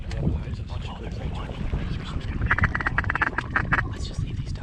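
Ducks pass overhead and quack in a loose cluster of calls during a North Dakota duck hunt, set against steady wind noise on the microphone, with people talking throughout.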